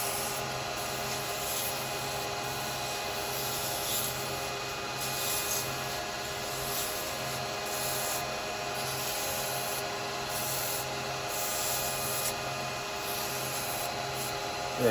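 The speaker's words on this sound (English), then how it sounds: "So a little bit of sanding." Sandpaper rubs against a spinning wood-turned Christmas angel on a lathe in a steady, continuous whir with a faint rhythmic pulsing, close up and without any talking.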